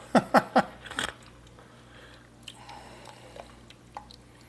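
A spoon clinks three times against a pot of pickle soup as two cups of pickle juice are stirred in, followed by faint, soft liquid swishes and small taps.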